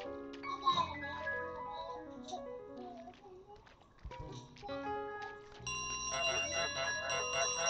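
Ringing bell in Untitled Goose Game, bright repeated chimes mixed with game music and other game sounds, close and fairly clear, with a person talking over parts of it.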